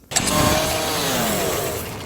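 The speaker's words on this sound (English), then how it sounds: "Then the chainsaw." A steady, buzzing chainsaw whine from a video game weapon, like a revving chainsaw, starts abruptly and holds at a constant loud level throughout.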